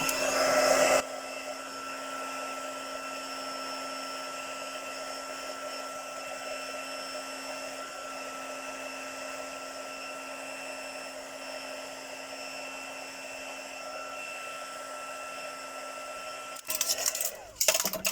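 Heat tool embossing a stamped birthday card, a steady whirring blower hum running nearly the whole time, switched on and off with clicks at each end.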